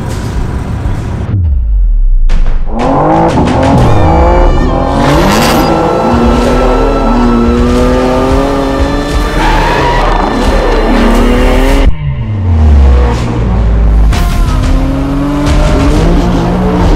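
A new BMW M3 Touring drives hard, its engine roaring and revving loudly while the tires squeal and skid in long sustained bursts, with a brief break midway, close and continuous.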